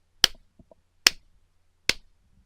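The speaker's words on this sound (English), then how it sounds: "they will clap 3 times very loudly so that the claps will appear on the timeline" Three loud, sharp hand claps spaced about a second apart, each a crisp isolated crack with nothing between them, used as an editing cue in a screen recording.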